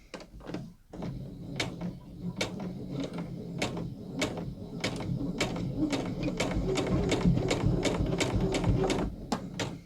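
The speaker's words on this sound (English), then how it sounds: "Back stitch a couple times." A sewing machine back-stitches a dress seam, rapid close mechanical clatter of the needle in quick regular strokes, building to a steady run with a brief pause near the start.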